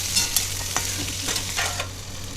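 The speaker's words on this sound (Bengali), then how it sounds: "বরবটিগুলোকে ভালো করে নাড়াচাড়া করতে রাখলাম" Potatoes and long beans being stirred in a frying pan for a spicy dry curry, a spatula scraping and tossing with a steady soft sizzle underneath and a few sharper clinks and scrapes, close and alone.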